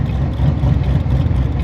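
Stage 4 C7 Corvette Z06 with a big cam idling, a deep, uneven low-end rumble with a lumpy, choppy pulse, close and steady for a short stretch with no voices.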